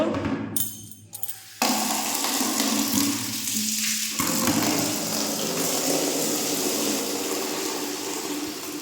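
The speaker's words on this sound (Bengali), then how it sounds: "এখন যাচ্ছি বালতিটা ভরতে, চানের জল নিতে। গরম জল নেব।" Hot bath water pours from a tap into a bucket, a loud, steady close rush of running water that starts after a brief clatter and continues throughout.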